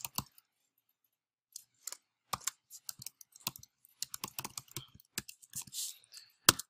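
Keys on a computer keyboard click in quick, irregular bursts while an email address is typed, close and fairly crisp, with short pauses between runs of keystrokes.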